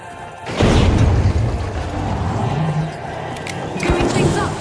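A frag grenade goes off in THE FINALS, a sudden loud booming blast that rolls into a sustained rumble of destruction and debris, with a second burst of noise near the end amid ongoing game action.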